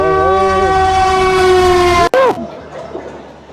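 A train horn sounds loud and close at a railway crossing in Lasalgaon, a long steady multi-tone blast that cuts off abruptly, followed by rumbling rail noise as the train passes.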